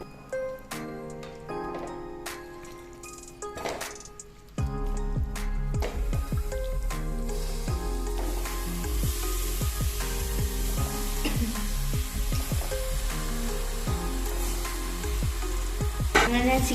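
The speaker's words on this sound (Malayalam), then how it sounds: "ഇനി നമുക്ക് നമ്മൾ കഴുകി വെച്ചിരിക്കുന്ന ചിക്കൻ എടുത്തില്ല ഇടാം കേട്ടോ." Washed chicken drops into a pan of frying onion masala, and a loud, sustained sizzle jumps up. Wet squelches and stirring clatter follow, after quieter frying before it.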